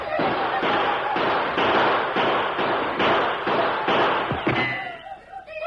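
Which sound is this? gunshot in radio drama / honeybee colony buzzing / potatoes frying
gunshot in radio drama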